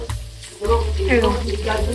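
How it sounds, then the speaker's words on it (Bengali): Grated coconut frying with potatoes in a pan makes a loud, close sizzle that carries steadily under a voice speaking throughout. "সেটা দিয়ে দেবো, যাতে নারকেলটাও ভাজা হয়ে যায় আলুর সাথে।"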